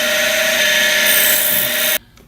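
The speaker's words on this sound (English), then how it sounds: "And now we'll go ahead and drill. I'm going to use the same RPM, about 2000 RPM." Mini mill drilling holes at about 2000 RPM, a steady loud high-pitched whine with a bright tonal hum running for two seconds, then cutting off abruptly into quiet.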